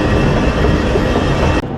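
Steady, loud rumble and rattle of a train at Berlin's main station, continuous broadband rail noise that cuts off abruptly near the end, with no talking.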